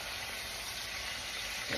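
Hamburger steaks and onions sizzle in a frying pan, a soft, even crackle and hiss running throughout, with a small stir or shift of the pan right at the end.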